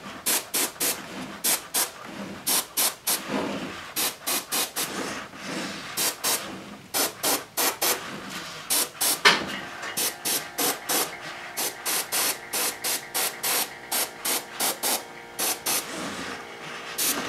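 Short repeated bursts of an airbrush or spray gun apply watered-down gold base color to a statue, a hissing spray pulsing in quick, closely spaced blasts with brief pauses between them.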